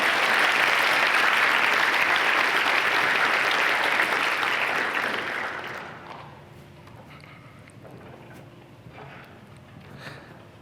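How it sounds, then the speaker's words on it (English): Loud, dense audience applause fills a college event hall, then drops off abruptly to scattered claps and low crowd murmur. "I'll take a clap if you,"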